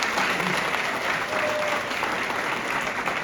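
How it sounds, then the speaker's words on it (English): Continuous audience applause fills a hall at a college convocation, steady dense clapping throughout with no break. "Can we give another round of applause to Jasmine?"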